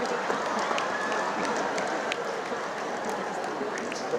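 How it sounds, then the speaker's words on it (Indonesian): Steady, dense clapping from an audience fills the whole stretch at an even level, a continuous wash of hands with no pauses and no voices standing out above it. "Kita tepuk tangan yang kedua teman-teman semuanya"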